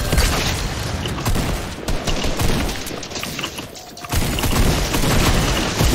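Heavy, continuous gunfire and booming blasts in a Fortnite match, with dense rapid shots sustained at close range throughout.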